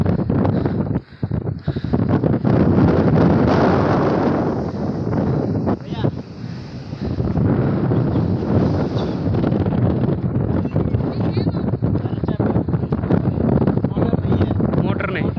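Strong sea wind buffets the microphone aboard a sailboat driven by the breeze, a continuous loud rushing roar with gusty surges and brief dropouts, while people talk under it.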